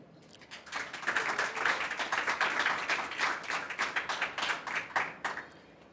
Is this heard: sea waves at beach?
no